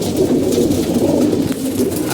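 Pigeons at feeding time coo steadily in low, overlapping throaty calls, loud and close, forming a continuous murmuring chorus with no talk.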